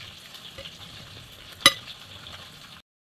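Tilapia frying in a pan gives a light, steady sizzle with one sharp clink partway through, before cutting off abruptly.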